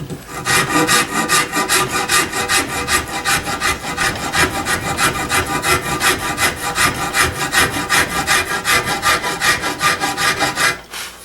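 A rasp scrapes across the wooden stock of a gun in a gunsmith's shop, producing loud, rhythmic rasping strokes in quick succession for about eleven seconds, close up and without speech.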